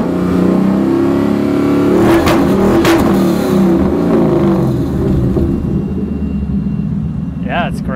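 A Ford Mustang GT700S engine revs and roars close by, its throaty rumble rising and falling while people talk over it.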